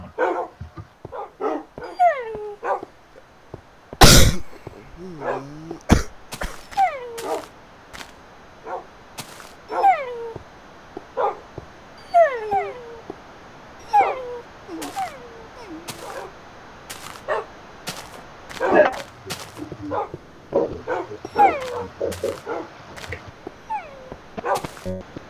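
Several dogs in the Minecraft video game bark, yip and whimper in repeated bursts. Short, close calls repeat throughout, with a few sharp cracks between them and no speech.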